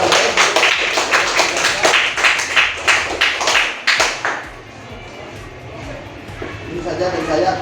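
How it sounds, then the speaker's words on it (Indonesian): A classroom group claps for student group 10 after their presentation in a Pancasila and civics lecture, a run of loud, even, close-sounding claps that fades to quieter background noise. "Kita beri aplaus kepada kelompok 10 yang telah memaparkan materi"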